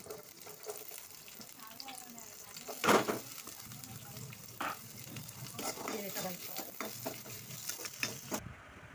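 Sliced onion and green chilli frying in about two spoons of oil in a pan, a steady soft sizzle with scattered stirring scrapes and one louder clatter near the start.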